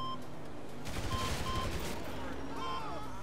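Gunfire in GTA Online comes as a short burst of rapid shots partway through, set against a quieter game background with faint tones, and a voice talks nearby.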